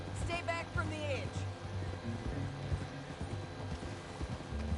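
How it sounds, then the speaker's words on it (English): Horse hooves clip-clop in Red Dead Redemption 2 as the horse shifts and moves about, steady soft footfalls under a continuous game soundscape with talk over it. "acho que esse cavalo tem aqui algum problema, sério, que ele está sempre a mexer"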